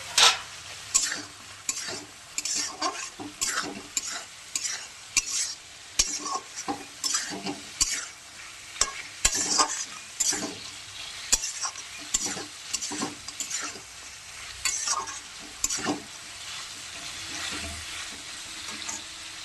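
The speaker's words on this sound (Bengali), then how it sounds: "বন্ধুরা মাছগুলো এর মধ্যে দিয়ে কষাবো।" Fish pieces sautéing in a pan crackle and sizzle as they are stirred, with repeated sharp scrapes and knocks of the spatula coming in an uneven rhythm throughout, close up and with no voices.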